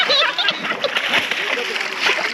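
A German Shepherd splashes in the pool below Tada waterfalls, with continuous choppy slapping and churning of water close by, and voices mixed in with the splashing throughout.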